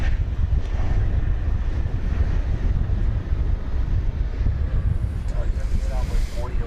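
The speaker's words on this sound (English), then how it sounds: "A breezy afternoon here at Founders Plaza" Afternoon wind at Founders Plaza beside DFW Airport buffets the microphone in a continuous low, gusty rumble, with faint, brief higher sounds near the end.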